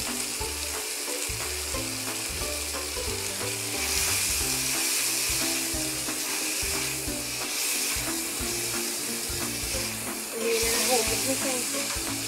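Onions sizzle and hiss loudly in a hot pan with occasional stirring, frying steadily up close while people talk over it.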